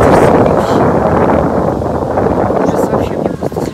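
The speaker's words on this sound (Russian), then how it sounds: "Посмотрите, какой ветер сильный." Strong wind blasts across the microphone while someone waits outdoors for a taxi, a loud continuous roaring rush, with a voice talking under it.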